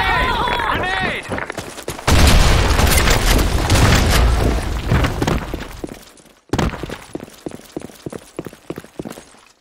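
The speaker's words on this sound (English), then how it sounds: "Fire in the hole. Fire in the hole. Grenade." Within a multiplayer shooter video game, a grenade detonates in a dense booming blast after a voice line, then rapid gunfire and more crackling bursts follow, with game voices heard early on.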